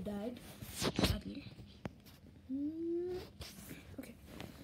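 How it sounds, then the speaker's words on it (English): A cat meows a few times nearby, mixed with a person talking and some rustling. "That is my cat, Fifi."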